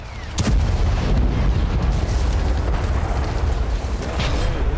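Continuous rumbling artillery fire and explosions in Gaza, dense low booms rolling over one another at a steady loud level for the whole stretch, with sharper blasts standing out near the start and end.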